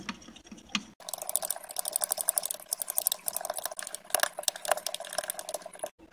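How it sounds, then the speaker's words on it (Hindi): Castor oil gel being stirred in a bowl gives a rapid, continuous run of small wet clicks and sticky taps, fairly close and steady, starting after a brief pause and stopping abruptly near the end. "अब इसको अच्छे से हम मिक्स कर लेते हैं।"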